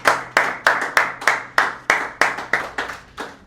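A church congregation claps in unison, about ten strong, evenly spaced beats with a slight roomy echo and no talking.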